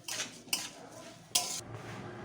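A spoon stirs rice frying in a cooking pot for prawn pulao, scraping and clinking against the metal with two sharper knocks amid steady shuffling, close and fairly quiet with no talk.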